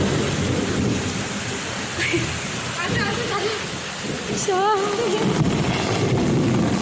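Steady heavy rain pours onto a rooftop during a thunderstorm, with loud rumbling thunder rolling through and brief higher chirps breaking through the dense, continuous downpour.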